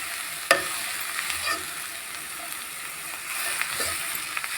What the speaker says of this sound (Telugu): ఇప్పుడు మనము క్యాప్సికం వేసుకోవాలి. ఇట్లా నీట్గా అంతా కలబెట్టుకోవాలండి.